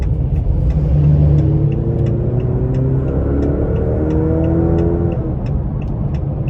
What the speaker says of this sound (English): I'm gonna put it into the GT mode, and we're gonna see how the exhaust sounds when I put my foot into it.